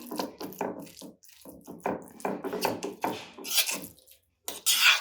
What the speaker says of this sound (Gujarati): એકદમ આનો કલર ચેન્જ થઈ જાય ત્યાં સુધી આપણે આ રીતે આને મિક્સ કરીશું